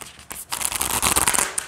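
A large deck of cards riffled together on its side, a quick dense flutter of snapping edges after a couple of short taps, close and crisp.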